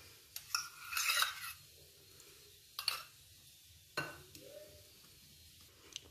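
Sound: stirring boiled ground bathua into raita

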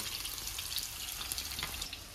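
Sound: onion frying in oil

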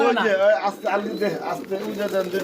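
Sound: white Komnian border pigeon cooing

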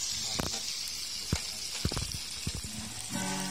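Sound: frying hunted koak bird meat in a pan

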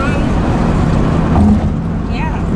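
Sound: Ford Mustang accelerating from a stop sign

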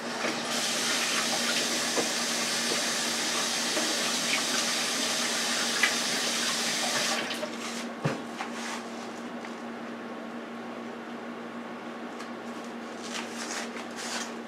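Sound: washing hands under running tap water

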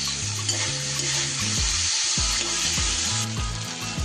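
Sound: grated ginger frying with sprouted mung beans and oats

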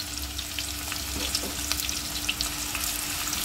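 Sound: onions frying in hot oil for tadka

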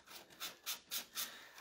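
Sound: sanding decoupage paper on a wood chest

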